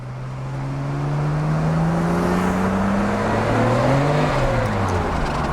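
Close by, a tuned Nissan Skyline GT-R R32 engine idles with an HKS Hi-Power 409 muffler and custom front pipe, a steady low rumble with a slight lope and small rises in pitch.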